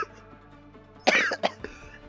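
A person coughs in a short, sharp burst of two or three harsh coughs close to the microphone, following a stretch of quiet game background sound.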